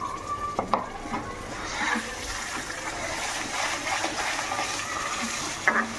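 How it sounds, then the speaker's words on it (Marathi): Gravy added to a hot pan, sizzling and splattering while being stirred, a close hiss with a couple of sharp utensil clinks against the pan and a swelling spurt of frying midway. "मी आता ही ग्रेव्ही आहे ना, ग्रेव्ही टाकणार आहे। ही खूप बरं उडते हां"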